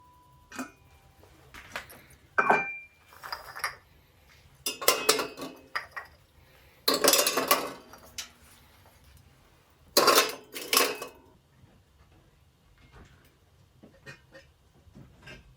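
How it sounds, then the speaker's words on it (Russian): Irregular clattering bursts of ice chunks clinking against a metal kettle, several clusters with quiet gaps between, close by, no speech. "Самые большие куски льда разложил на террасе, а куски поменьше незамедлительно помещаю в чайник."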